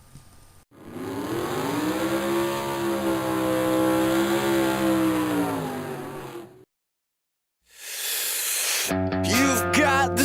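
A car engine revving in Gran Turismo 4 on PlayStation 2, a loud sustained engine tone that rises and falls in pitch, then silence and a burst of game noise with tonal electronic sounds.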